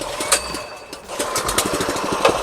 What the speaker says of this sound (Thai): ตอนนี้เราได้สตาร์ทเครื่องแล้วนะครับ